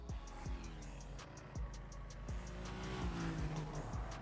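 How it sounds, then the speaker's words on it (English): A race car engine in Need for Speed Heat revving hard through gear shifts, the pitch climbing then dropping sharply at each change, loud and close with faint tire noise. "Wow, I love the noise of this car."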